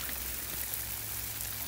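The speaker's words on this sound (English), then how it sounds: "As the water's hitting the screen," Water splashing and pattering steadily onto the touchscreen of a Mesa 2 rugged tablet, a continuous close hiss of spray and drops with a low rumble beneath, no talking.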